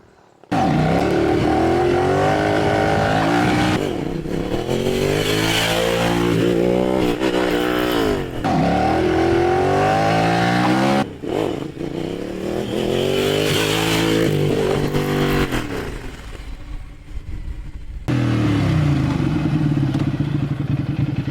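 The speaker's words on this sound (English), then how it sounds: "blasting a few wheelies on my Hypermotard" A Ducati Hypermotard motorcycle revs hard during wheelie runs, its engine rising and falling in repeated loud sweeping pulls with brief drops between bursts, close and continuous throughout.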